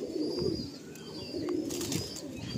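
An Ice breed pigeon coos softly in a loft, low rolling coos repeating steadily and close, with faint chirps and room noise around it.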